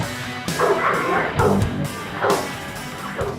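An American Bandog, a guard dog breed, barks four times in a steady rhythm about a second apart, loud and close, with a whimpering yip edge and no talking.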